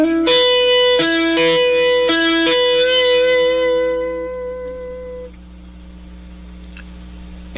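A clean electric guitar lead-in to the solo of a song, with a few picked notes and slides ringing out in sequence and then a sustained note fading away, played alone without talk.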